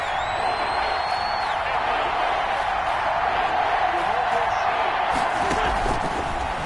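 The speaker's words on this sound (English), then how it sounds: "the crowd getting into it as we come up on a big third down." Stadium crowd at a televised football game rises into a steady, loud roar building for a big third down, a dense wash of cheering and noise that fills the whole stretch without a break.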